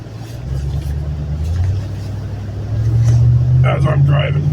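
A car drives along during a massive wind storm in Washington, its engine a steady low drone that rises slightly midway, with a voice speaking over it near the end.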